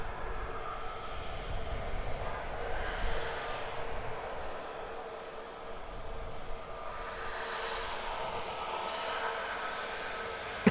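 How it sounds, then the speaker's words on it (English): EasyJet Airbus A320-200 jet airliner at Edinburgh Airport, its engines giving a steady broadband roar that holds near and fairly loud throughout, swelling slightly at times and never dropping away. "EasyJet on your screens now. We'll be heading off to Nice. This is an A320-200."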